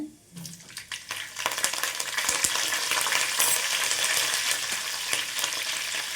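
Curry leaves go into hot oil with mustard seeds, cumin and lentils, and a loud, steady crackling sizzle rises after a short quieter start and continues close up for several seconds.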